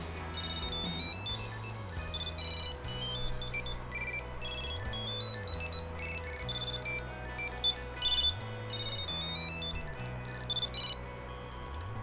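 A Tile Bluetooth tracker plays its ringtone after being found through its phone app, a loud repeating melodic chime pattern cycling several times with a steady low accompanying loop, with no talking.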